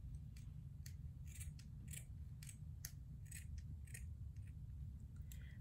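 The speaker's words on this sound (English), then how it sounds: "Let me just keep cutting real quick." Scissors snip through a Puma sock to make a face mask, a quick run of faint, close, crisp cuts in an irregular rhythm over a low background hum.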